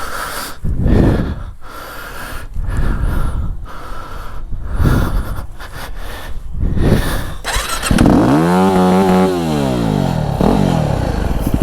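A Yamaha WR250R dirt bike stumbles in the mud at Prairie City SVRA, its engine sputtering and choking in uneven bursts before revving into a rising and falling whine, loud and close with no talking.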